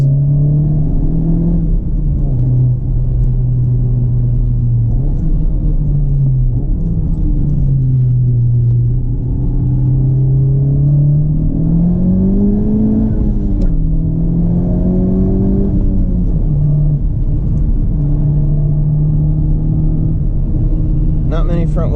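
A 2018 Honda Civic Type R FK8, front-wheel drive with Brembo brakes, drives hard with a loud, close engine drone that rises and falls in pitch as it accelerates out of a corner, heard from inside the cabin.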